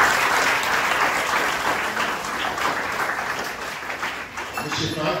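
Sustained audience applause at a school launch ceremony for a quiz championship, a thick, even roar of many hands clapping throughout, fairly loud, with faint voices mixed underneath.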